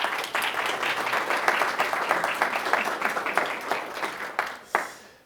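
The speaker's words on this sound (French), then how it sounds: "je crois que ça mérite un applaudissement pour tout ce qu'ils viennent de présenter" A conference audience at BTExpo 2025 applauds after a presentation, with dense clapping that thins toward the end into a few scattered claps and a final louder one.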